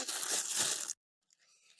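Scissors slice through a thin plastic shopping bag to remove its handles: a loud, crinkly cutting rustle for about a second, then quiet with a faint crinkle.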